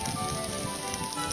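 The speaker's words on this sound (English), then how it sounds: "Raining again." Steady rain falls outdoors on a walk in the countryside, a continuous close hiss of drops pattering on surfaces with no other sounds.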